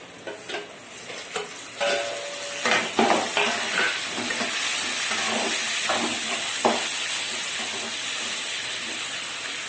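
Onions and tomatoes fry for a drumstick sambar, with a bright steady sizzle and hiss that builds after a few early clinks and scrapes of stirring in the pan, close by and without talk.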